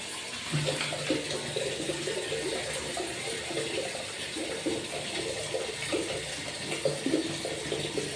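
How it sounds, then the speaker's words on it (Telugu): Acid from a bottle being poured down a clogged household drain pipe, a steady watery gurgle and splash running continuously at moderate level, with no talking. "ఇప్పుడైతే ఒక బాటిల్ యాసిడ్ పోసుకోండి"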